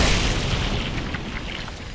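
A fire bomb bursting on slugs in Dark Souls III: one heavy, rumbling blast at full strength that fades slowly over two seconds, with no voices over it.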